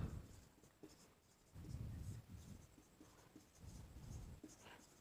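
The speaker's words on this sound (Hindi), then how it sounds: "ठीक है दोस्तों, लिख देते हैं हम इसको, गणेश" Marker or chalk strokes scrape across a classroom board as a name is written out, close and quiet, in short bursts of scratching separated by brief pauses.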